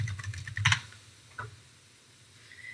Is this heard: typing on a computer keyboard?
yes